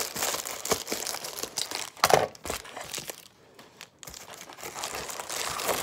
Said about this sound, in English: All right, big wad of stuff came in this one. With bubble wrap. And I can't open it.